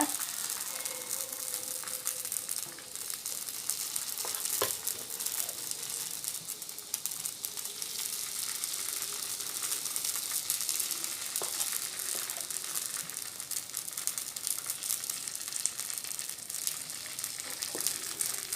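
Potato paniyaram batter fries in a kuzhi paniyaram pan, giving a steady, fine crackling sizzle that runs evenly throughout with a few sharper pops over a quiet background.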